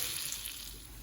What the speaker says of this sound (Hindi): मैं इसके अंदर हल्का सा शैलो फ्राई करूँगी, इसको थोड़ा सा कैरमलाइज करूँगी